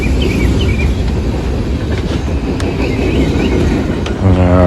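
A northbound freight train passes the England Street crossing in wet weather, a loud, continuous rumble with rhythmic wheel clatter over the rails and a short squeal near the end.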